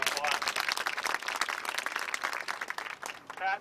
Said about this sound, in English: Let's give her an extra applause.